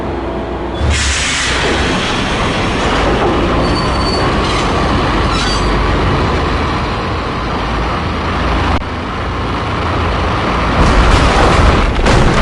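A train in the video game Max Payne rolls along with a loud, steady rumble of wheels on rails, metallic squeals and clanks, and a sharp jolt of noise partway through.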